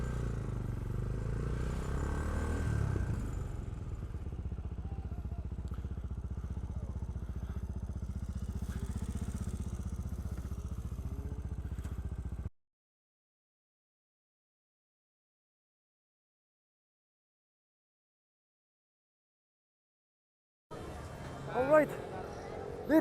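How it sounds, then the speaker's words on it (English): A Bristol Classic 400i motorcycle engine runs steadily at close range for about twelve seconds, then cuts to silence before a brief burst of other noise returns near the end. "That's a nice sounding CB400."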